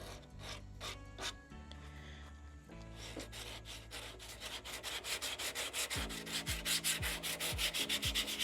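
Steady rubbing and scraping of sandpaper around a ding on a surfboard, growing into quick rhythmic back-and-forth strokes, close and fairly quiet.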